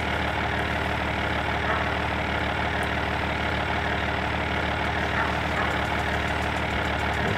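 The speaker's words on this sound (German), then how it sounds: "Der Traktor ist auch noch so laut." A tractor engine runs steadily at a constant low rumble on a farm, with a continuous mechanical drone and no talk.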